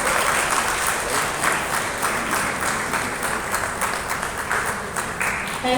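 An energetic crowd applauding at an event on inclusion for children, steady, loud clapping from many hands that holds evenly throughout with no voices over it.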